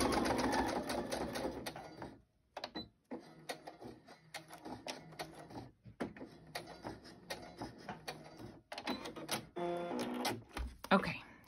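A sewing machine stitches around a book-page envelope pocket in quick bursts with short pauses, running at a fast pace while a person talks in between.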